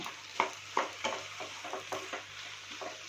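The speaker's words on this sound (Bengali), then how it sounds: "ভালো করে আবারও একটু নেড়ে চেড়ে দেব" Potatoes frying in oil are stirred with a utensil, making a run of close, rhythmic scraping strokes over a low sizzle, with no one speaking.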